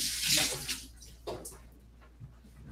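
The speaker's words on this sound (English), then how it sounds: "Let me wash my hands." Hands are washed under a running tap, a close splashing water stream that is strongest at first and then thins into softer, intermittent trickles.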